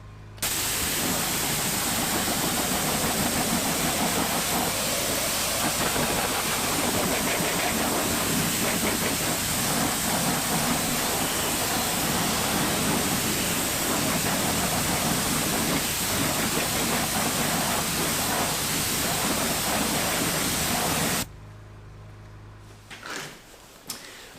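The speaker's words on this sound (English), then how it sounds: "Now let's rinse it off." Water sprays in a steady, loud hiss while rinsing a cleaned wheel on a Vauxhall Corsa outdoors, running continuously for about twenty seconds before cutting off to quiet.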